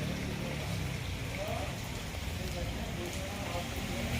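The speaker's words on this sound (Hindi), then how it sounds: "2-3 दिन से लगातार बारिश हो रही है, छिटपुट छिटपुट, लेकिन आज तेज है" Heavy rain pours down on a narrow street, producing a dense, unbroken hiss and patter that stays even and loud throughout.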